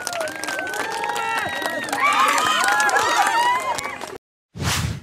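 A college audience cheers for a female teacher at a campus event, with loud clapping, whoops and shouted voices blended into a dense crowd roar. It breaks off briefly, then a final burst of noise follows.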